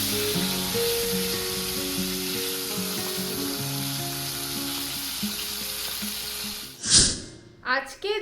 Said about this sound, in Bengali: এটাকে অল্প একটু সাদা তেল দিয়ে মেখে সর্ষের তেলে ডিপ ফ্রাই করে নেবো